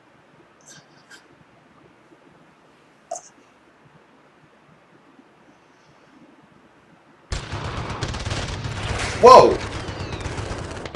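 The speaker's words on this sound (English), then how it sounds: "You got gunshots!" A sudden burst of rapid game gunfire erupts after a quiet stretch, loud and dense, with a person exclaiming briefly under it.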